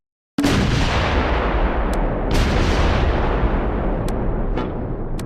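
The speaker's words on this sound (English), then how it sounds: "A Panzer in the woods east of the crossroads takes a hit in the frontal armour, and a 105mm shell from behind." A 105mm shell strikes a Panzer in a Close Combat 4 battle at Weiler during the Battle of the Bulge: a sudden loud blast opens a long rumbling roar, with further sharp cracks and distant booms breaking through without pause.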